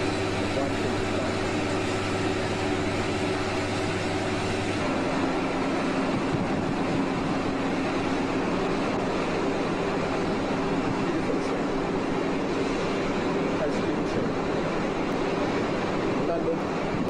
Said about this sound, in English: This is a wonder train. The Intercity